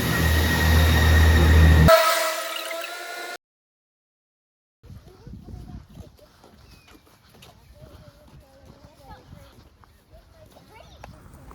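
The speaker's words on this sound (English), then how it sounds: "I'll film the train departing" A Chiltern Railways train departs from a station. Strong broadband rumble and a horn-like tone are heard at first, the sound cuts out, and then quieter rail and wheel noise with scattered clatter continues.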